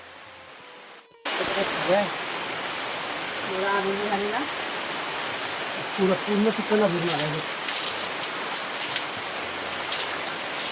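Steady, heavy rain hisses continuously after a brief quiet start, with voices talking over it now and then.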